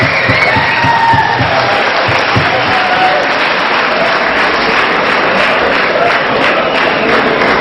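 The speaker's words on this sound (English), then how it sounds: "put your hands together and give a big applaud for" Audience applause at an Indian cultural night in Yerevan, Armenia: sustained, dense clapping from a large crowd, steady and loud throughout with a faint voice underneath.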